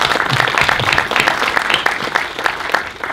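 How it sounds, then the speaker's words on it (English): An audience at a data center infrastructure talk claps after the presentation, a dense, steady round of applause lasting a few seconds. "Applause to Juho first."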